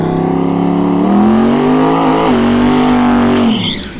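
Loud, close engine roar from a drag race between a Tesla Plaid and a twin-turbo 6.0L LS-swapped 240SX, a steady harmonic drone rising in pitch and holding before cutting off near the end.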